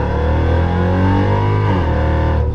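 A Mercedes ML63 AMG SUV fitted with headers and a tune revs loud and close. The engine holds a deep, raspy, sustained roar, then dips slightly near the end as the revs fall.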